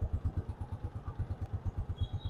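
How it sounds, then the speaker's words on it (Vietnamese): A Honda Dream motorcycle engine idles close by, a steady, even thumping beat of exhaust pulses, quiet and smooth with no other sounds over it. "nổ máy rồi anh em. Nổ máy rồi."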